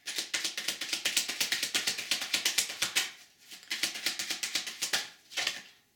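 Rapid, crisp riffling clatter of cards being shuffled close up, in quick bursts with a brief pause, then another short riffle.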